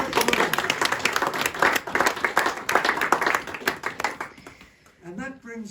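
Audience applause at a village history group's Christmas event, a dense burst of clapping that fills most of the clip before fading as a voice begins speaking at the end.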